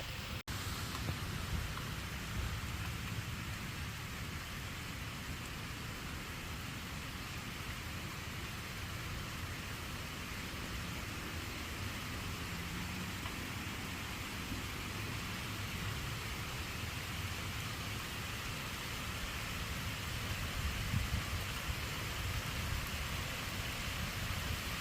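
Steady rain falling in a wilderness setting, a constant broadband hiss with low patter that holds evenly throughout, no voices.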